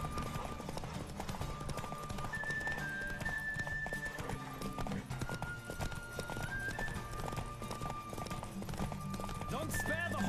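Horse racing in the video game The Witcher 3, galloping hooves pounding steadily under game music and tonal notes, with a character talking over the hoofbeats and a whinny near the end.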